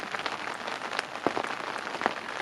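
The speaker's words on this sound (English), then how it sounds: "Come on, rain, hurry up and stop." Rain patters steadily on a surface beside a carp fishing lake, with a few louder individual drops landing close by over the soft continuous hiss.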